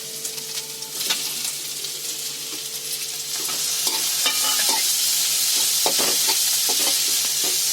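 Onion, ginger and garlic frying in a pan for an Odisha-style rice dish, a steady close sizzle with intermittent stirring scrapes and clinks that grows louder and denser partway through, no voices.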